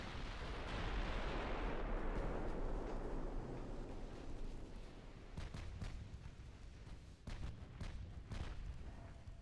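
Naval artillery in the warship game Ultimate Admiral Dreadnoughts booms out: a heavy, rumbling salvo swells and fades, followed by several sharp, distant gunfire cracks scattered over the following seconds.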